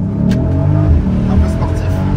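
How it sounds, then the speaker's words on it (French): The V8 of a Mercedes GLC Brabus 600 SUV revs up in a short, loud surge with rising engine tone, heard from inside the cabin while a person talks over it. "C'est la première fois que je conduis un V8"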